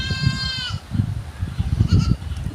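A goat kid bleats on a village farm garden in the Kolli Hills, giving one drawn-out, quavering cry, then a shorter bleat near the end, over a steady low rumble and rustling.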